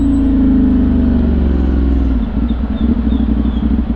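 A CFMOTO 450NK motorcycle fitted with an Orion ARA exhaust rides through traffic after dark. Its engine rumbles loud and close, then eases off partway through as the throttle drops.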